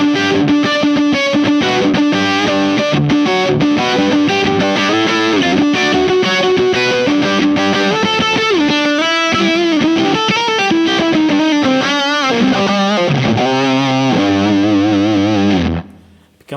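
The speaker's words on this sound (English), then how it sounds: "It's a fuzz, almost like a fuzz circuit there." Electric guitar played through a HangmanFX Tyrannosaur Mega Driver pedal set to gated fuzz, a loud, buzzy, heavily distorted riff with sustained notes and bends that cuts off abruptly to silence at the end.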